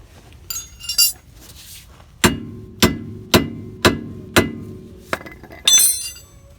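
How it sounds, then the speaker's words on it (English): Metal hammer blows on the drag link of a 1985 Mercedes 300D, struck to the side of the thin cap to seat the conical joint: five evenly spaced sharp ringing strikes, close and loud, with lighter clinks before and after. "what I was trying to do is just hammer it in there to get that conical seat started"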